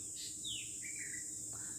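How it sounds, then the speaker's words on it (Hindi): Small birds chirp outdoors in a short run of faint, high tweets and call notes, heard alone against a quiet background. "चिड़ियाँ चहचहा रही हैं"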